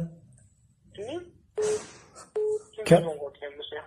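A mobile phone signals an incoming call with two short, steady electronic beeps, heard under and between close conversation.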